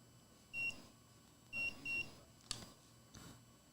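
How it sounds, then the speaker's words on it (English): An automatic hair curler gives a few short electronic beeps, spaced apart and fairly faint, with a brief click between them in a quiet room. "Listen, it beeps. It'll beep 12 times because that's what I set it to."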